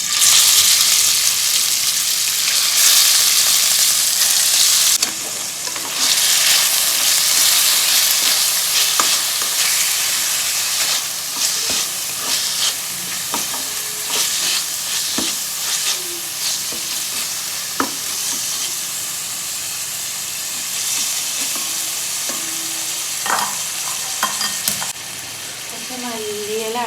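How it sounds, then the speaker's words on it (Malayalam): Chicken pieces fry and sizzle steadily in a hot pan as filling for samosas, with occasional stirring scrapes and clinks over the continuous loud crackle; no one speaks. "ചിക്കനൊന്ന് പൊരിച്ചെടുക്കാം കേട്ടോ"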